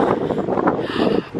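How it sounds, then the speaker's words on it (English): Wind blowing outdoors on a chilly winter evening among Christmas lights in Blackpool, a steady rushing buffet across the microphone with gusty swells and no one speaking. "it's a wee bit windy as well"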